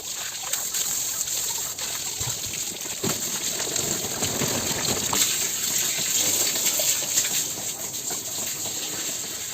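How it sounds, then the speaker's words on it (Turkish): Water gushes and splashes steadily as a greenhouse shelf is washed down, a continuous hissing spray with occasional knocks, while birds chirp faintly in the background. "Şimdi orta tarafı yıkama aşamasına geçiyorum."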